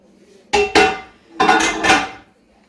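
A spatula clanks and scrapes against a pot of posole in two bursts of stirring, close and fairly loud, with quiet pauses between.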